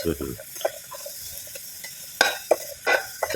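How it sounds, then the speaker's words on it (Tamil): A lump of asafoetida frying in plenty of oil, with soft sizzling and scattered stirring scrapes, a few louder clatters of spoon against pan near the end. "பெருங்காயத்தை எண்ணெயில் போட்டு பொரிச்சு எடுத்துக்கலாம்."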